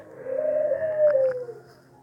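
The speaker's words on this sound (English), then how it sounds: "Our pigeons are cooing." A pigeon gives one drawn-out, gently rising and falling coo close by, with a faint click partway through and a quiet room behind.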